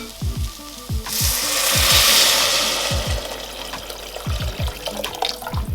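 Vegetable stock is poured into a pan with garlic for a pearl barley and kale broth, a loud rushing splash lasting a couple of seconds amid close utensil knocks before and after.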